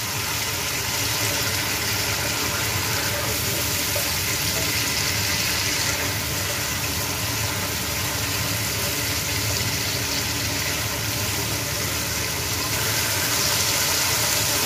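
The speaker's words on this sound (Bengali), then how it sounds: "এবার মশলাটা ভালো করে কষিয়ে নেব" Masala frying and being stirred for a tangra fish and brinjal curry, cooked the village way, a continuous loud hissing sizzle with a low steady hum underneath, no speech.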